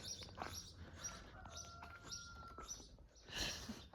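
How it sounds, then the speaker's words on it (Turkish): Faint bird chirps and short tweets from outdoors, scattered and thin against a soft background rustle. "Kuş sesleri, hayvanlar mutlu."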